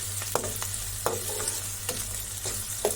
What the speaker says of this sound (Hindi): साथ ही में इसके मैंने हरी मिर्ची भी डाल दी ताकि हरी मिर्च भी अच्छी तरह से ये फ्राई हो जाए